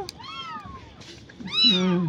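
One of three abandoned kittens mews, a thin high cry followed by a louder, longer one, close by, with faint voices and household noise underneath.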